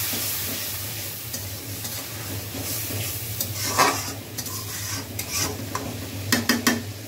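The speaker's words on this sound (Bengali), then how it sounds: "চিংড়িগুলো দিয়ে দিলাম।" Shrimp sizzle and fry in a pan with gourd greens, a steady crackling hiss broken by several close scraping stirs of a utensil against the pan toward the end.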